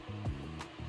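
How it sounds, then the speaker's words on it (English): A blender whirs in another room of a home, a short, steady motor drone that holds for under a second at moderate loudness. "someone is blending something right now"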